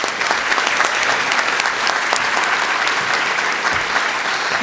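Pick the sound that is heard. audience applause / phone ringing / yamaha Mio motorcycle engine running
audience applause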